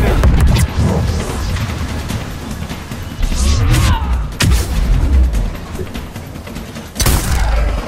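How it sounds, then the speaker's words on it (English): Gunfire and heavy blasts in a deep-sea level of the video game Mass Effect 3: loud bursts, thuds and booms in irregular clusters, with sharp cracks near the middle and end. "Oh, damn it, more things are shooting at me."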